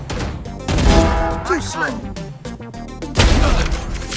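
Sharp gunshots ring out in a Valorant match, a first-person shooter, scattered through the clip under and between a man's speech.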